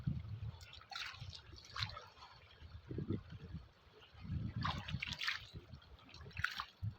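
Irrigation water trickles and dribbles across farm field plots, a soft, uneven liquid wash close by, with low rustling and handling noises between faint gurgles.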